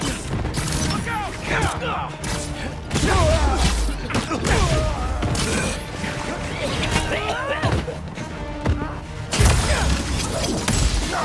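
Explosions, gunfire and crashing impacts fill a chaotic combat scene in the Spider-Man 2 video game, with loud bursts and thuds recurring throughout under shouted voices.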